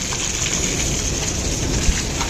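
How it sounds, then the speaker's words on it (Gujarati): Heavy downpour at a market yard in Gondal, a dense steady hiss of rain drumming on surfaces, loud and close, with a brief low rumble of thunder near the end. "જોઈ લ્યો ગાજવીજ સાથે વરસાદ"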